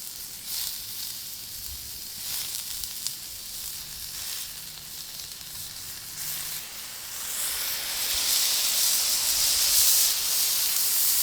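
Onions and then beef sizzle on a hot griddle for smashed tacos, a steady, loud hiss that swells stronger and brighter midway through as more food hits the surface, with no talking.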